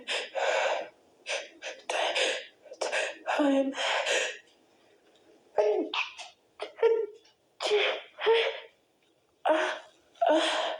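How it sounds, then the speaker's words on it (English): Repeated breathy gasps and strained, muffled bursts of someone holding back sneezes, about a dozen short vocal sounds in uneven clusters with pauses, close to the mic. "Sneeze."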